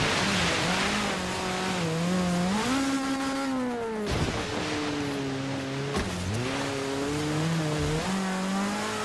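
Continuous engine drone from a car drifting in Forza Horizon 3 on snowy mountain roads, pitch sliding up and down with throttle changes and brief breaks, loud and steady throughout with no talk.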